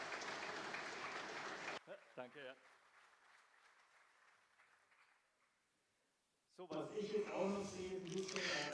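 A large audience at the FarmCon agricultural event in Mannheim cheers and applauds loudly for almost two seconds, then falls quiet before someone speaks.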